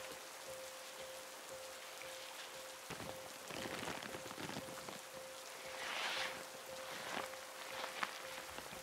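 Soft rain falls steadily through woodland, hissing quietly with scattered close drips and patters, faint and continuous with no voices.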